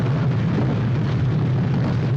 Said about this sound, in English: That was a real explosion, I think.